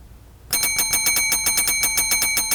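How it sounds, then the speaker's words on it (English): A desk service bell struck rapidly over and over, about fifteen bright metallic rings in a steady insistent rhythm, loud and close, following a brief quiet moment. "There is no need to ring the bell."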